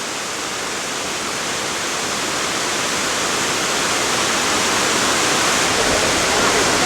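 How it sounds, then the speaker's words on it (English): A waterfall at Burlington, Vermont pours down wide into a pool beside buildings, a loud, dense, continuous rush of water that swells slightly and stays close, with no speech. "Very nice waterfall."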